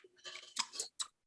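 A person chewing food close to a microphone: a few short, wet crunching bites in about a second, quiet and intimate, with no talking.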